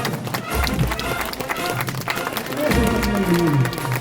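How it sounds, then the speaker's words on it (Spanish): Crowd at a village anniversary celebration in Chacralla, Ayacucho, Peru, applauding in a dense patter of claps, with voices and a rising call over it partway through. "un voto de aplauso a nuestras autoridades"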